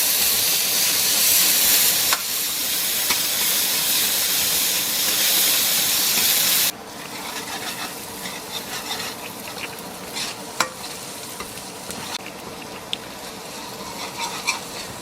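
Finely chopped onions frying in a pan for pav bhaji, with a loud steady sizzle and hiss that drops in level partway through, scattered scraping stir strokes and small clicks over the continuous frying noise.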